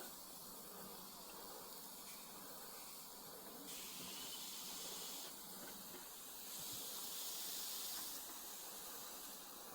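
Steady broadband sizzling hiss of meat frying in a pan at a campsite, loud and continuous, swelling slightly at moments with no talking.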